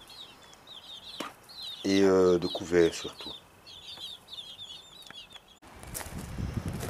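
A mother hen with her eleven chicks in a garden: the chicks keep up high, rapid peeping throughout, with soft clucks and someone speaking briefly over them.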